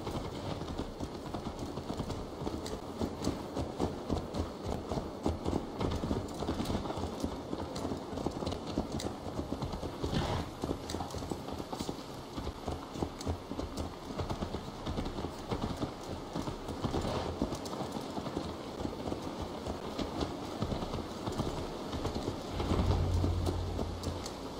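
Horse hooves clip-clopping steadily in the video game Assassin's Creed Valhalla, a continuous rapid trotting rhythm at close range, mixed with ambient game noise and occasional faint voices.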